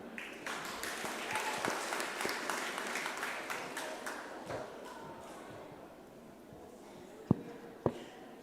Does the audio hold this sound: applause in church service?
yes